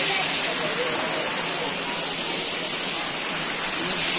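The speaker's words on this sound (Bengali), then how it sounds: "ঝর্ণার জলটা যখন পাথরের ওপর পড়ছে, সুন্দর একটা জলের আওয়াজ হচ্ছে" Waterfall at Rock Garden, Darjeeling, with water falling onto rocks: a loud, steady broadband rush of splashing water, close and continuous with no pauses.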